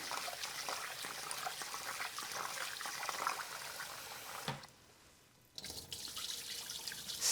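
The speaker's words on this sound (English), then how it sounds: "So let's go ahead and rinse it one more time" Running tap water splashes and trickles while rice is rinsed in water to wash out the starch, a steady wet rush that cuts out briefly, then resumes close by.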